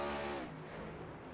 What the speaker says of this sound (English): Definitely heard some high RPM revs there as we were watching them come through the S's.